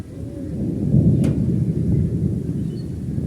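A low rumble of thunder rolls beneath steady rain, swelling and easing over a few seconds, with a brief sharp crackle partway through.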